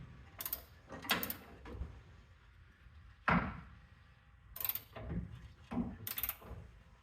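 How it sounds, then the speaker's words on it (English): A ratcheting wrench on a long 18mm socket works a rusty rear bumper bolt on a 1994 Chevy K1500 truck, sounding as irregular bursts of close mechanical clicking separated by short quiet gaps. "I've got the long 18mm socket with a ratcheting wrench on the head of the bolt"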